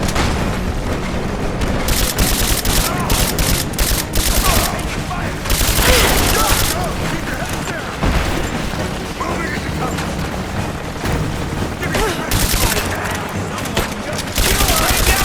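Heavy gunfire and booming blasts in a Rise of the Tomb Raider combat scene, dense and loud throughout, bursts of shots layered over explosions and game music, with shouting voices mixed in.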